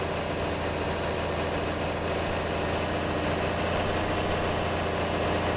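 A tractor idles with a baler attached in Farming Simulator 22, giving a steady low diesel rumble and droning hum that stays constant and fairly loud, with no talking.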